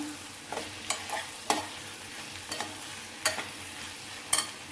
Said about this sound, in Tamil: நல்லா வதங்கி வரட்டும் இந்த அளவுக்கு நமக்கு வதங்கினா போதும்